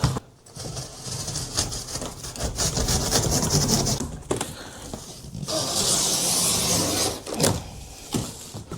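Cardboard packaging of a LANKELEISI X3000 Max e-bike being opened, with loud scraping, rubbing and tearing sounds broken by short pauses, close up and without speech.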